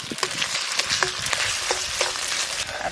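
Ginger-garlic paste sautés for a fish curry with a dense, close sizzle and frequent quick scraping clicks of stirring throughout.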